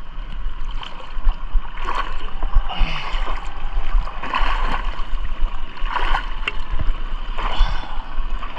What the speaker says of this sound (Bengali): সো বিসমিল্লাহ বলে একটা সাঁতার দেওয়া যাক